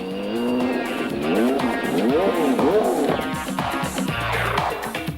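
IndyCar race car from Nigel Mansell's 1993 PPG IndyCar World Series season, engine roaring loudly and continuously with pitch sweeping up and down through gear changes and passes, tire squeal mixed in.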